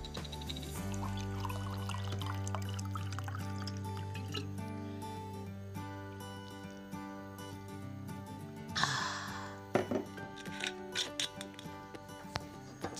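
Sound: pouring natural mineral water to drink

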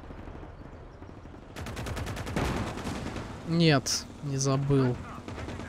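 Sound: gunfire in the video game Call to Arms - Gates of Hell: Ostfront

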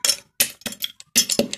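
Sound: crushing lemon in a glass

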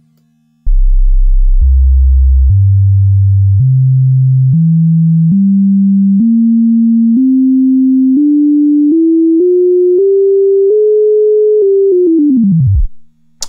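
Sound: synthesizer sine wave stepping through harmonics

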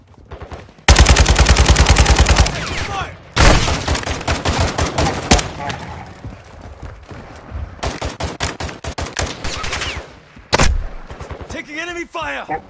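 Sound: gunfire in video game Warzone DMZ

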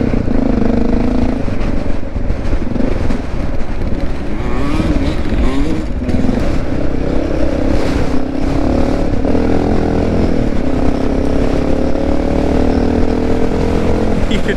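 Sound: Honda XR650L motorcycle riding off-road with two-strokes

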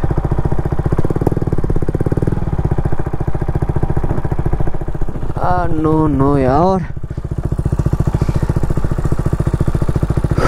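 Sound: motorcycle engine idling after an accident

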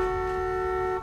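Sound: car horn honking in video game

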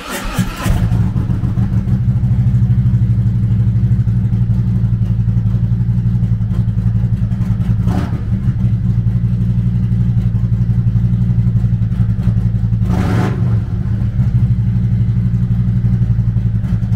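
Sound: Harley-Davidson Ultra Limited 107 cubic inch V-twin motorcycle engine

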